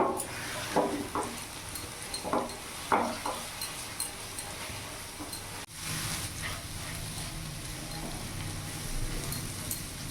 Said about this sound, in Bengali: গ্যাসের ফ্লেমটা এখন পুরো ফুল করব, মিডিয়াম রাখবো না, পুরো ফুল আছে। এখন ভাজবো অনবরত, এইভাবে নাড়াচাড়া করে যাব।